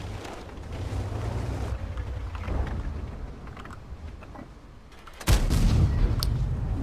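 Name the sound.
tank cannon shot in video game World of Tanks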